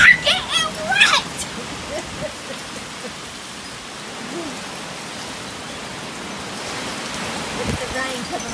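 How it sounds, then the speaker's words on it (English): Heavy rain driven by strong, hurricane-like wind pours down as a steady broadband wash that builds toward the end, with a person talking briefly near the start. "Look at the rain coming off the top of that house down there. Looks like a hurricane. Oh, it's blowing hard, guys."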